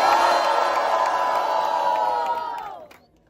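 An audience at a rap battle final in Londrina roars and cheers in one sustained loud burst that fades out after about three seconds.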